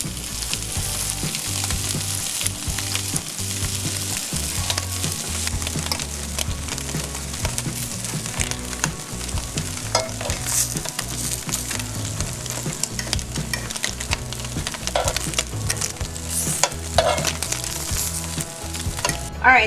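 Vegan sausage sautéing in a seasoned pan, a steady, close sizzle and crackle with occasional scraping stirs, no voices.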